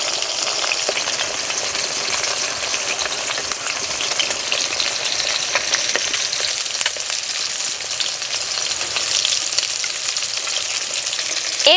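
Katla fish heads fry in oil over low heat, giving a steady, close sizzle with fine crackling pops that runs unbroken throughout, with no voices.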